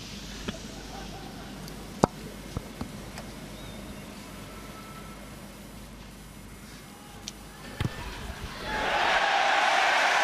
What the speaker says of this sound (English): Well, big cheer because he's missed it.